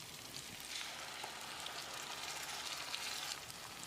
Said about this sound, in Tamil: தக்காளியோட பச்சை வாசனை போகிற அளவுக்கு ஒரு 2 நிமிஷம் நல்லா ஃப்ரை பண்ணி விடணும்.